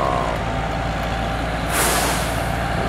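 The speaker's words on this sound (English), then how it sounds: "That's a fair sized truck pulling this thing too." A large truck hauling a heavy load on a road in Sarnia, its engine rumbling steadily before a sharp hiss of air brakes bursts out near the end, close and loud.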